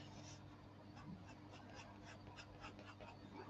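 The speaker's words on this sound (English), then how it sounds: "I think one of these dogs needs to go out." A dog pants in quick, regular puffs and lets out a few small whimpers, faint and somewhat distant against a low steady hum.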